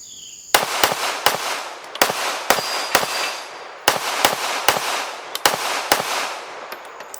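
A CR920 pistol fires at a 15-yard target in a fast string of roughly a dozen sharp, loud reports. The shots come in uneven pairs and bursts with brief gaps, and no voices are heard.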